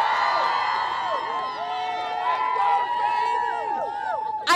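Excited fans rooting for the FAU team before its Final Four game cheer and whoop together, many overlapping voices shouting at length in a lively crowd.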